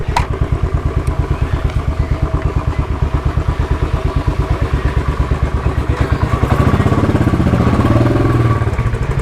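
A brand new Royal Enfield Bullet 500 single-cylinder motorcycle idles close by, its steady rapid thumping pulse running throughout and growing slightly louder near the end.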